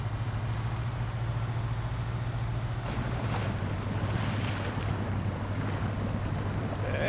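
A truck pushes through a deep creek in the SnowRunner video game, with a steady low engine drone beneath continuous rushing, churning water noise that grows more turbulent partway through.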